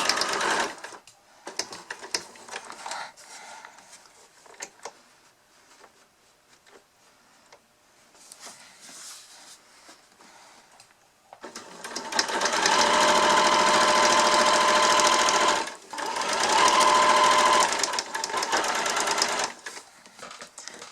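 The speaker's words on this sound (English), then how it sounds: "Again, I'm going to back stitch." A sewing machine back stitches a fabric face mask, running in two loud sustained bursts after quieter handling sounds of fabric and machine.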